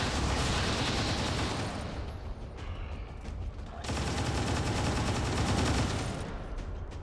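Turret gunfire in XCOM 2 with the Long War 2 mod, heard as loud, dense sustained bursts of shots that pause briefly and then resume, with no talk.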